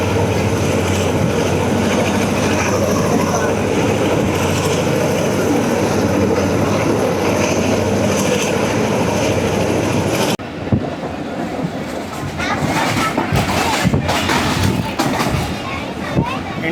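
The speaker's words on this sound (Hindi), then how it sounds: "चाइनीज़ इंजन अपना गरजदार" A Chinese diesel locomotive hauling a passenger train roars loudly and steadily near a curve before a bridge, then the sound shifts abruptly to rattling, clattering carriage noise with a voice talking over it.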